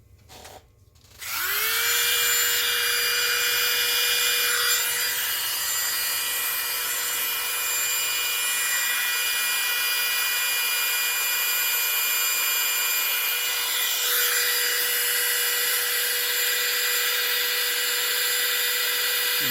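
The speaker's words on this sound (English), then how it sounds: "we're going to hit it with the heat gun. Or in this case, it's a hair dryer" A hair dryer used as a heat gun on heat-shrink tubing switches on and whirs continuously with a steady high-pitched motor whine and rushing air, loud and close, running without pause.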